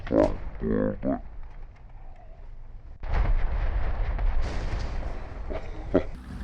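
M50 Ontos firing a six-round salvo in War Thunder: a sudden loud, broadband blast breaks in after a voice, followed by a sustained rumbling roar with sharper cracks near the end.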